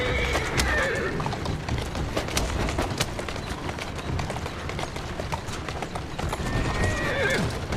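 Horse hooves clip-clop steadily on a cobbled London street in Assassin's Creed Syndicate, with a loud whinny near the start and another near the end, set against a busy carriage-ride background.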